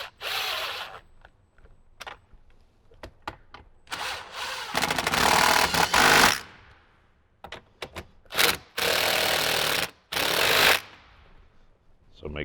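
Bolting a speaker bracket into a 2018–2023 Jeep JL with 10mm bolts during a speaker install: quick close clicks and taps, then several longer bursts of ratcheting or rubbing tool noise, loud and near.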